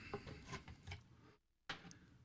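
Shure SM58 microphone box being unpacked, faint close rustling, rubbing and scraping of cardboard and packaging with a brief silent gap before the handling resumes.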